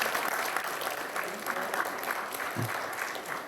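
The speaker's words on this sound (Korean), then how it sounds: "여러분 박수 한번 해주십시오." A crowd of reporters at a Pohang city mayor's New Year press conference claps together, steady dense applause sustained at moderate level without voices over it.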